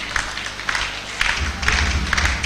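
An audience at a JCI Nigeria TOYP event claps for the chairperson's mother, moderate scattered applause with uneven hand claps and crowd murmur, fairly faint overall.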